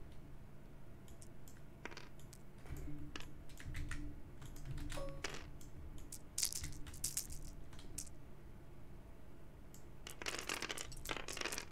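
Dice rolled in a tabletop Warhammer Fantasy (One Page Rules) tournament game, ten at once, clattering in sharp bursts of rattles and ticks across a table, with louder clusters midway and near the end, amid quiet room noise.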